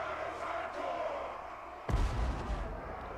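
Cannons fire in the Total War Warhammer video game during a dwarf battle, one heavy booming shot cutting in midway over a steady roar of battle din and crowd noise.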